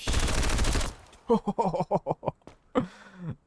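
RPK gunfire in the video game Road to Vostok: a dense burst of noise opens, then a rapid string of separate sharp shots follows, with a final lone report after a short gap.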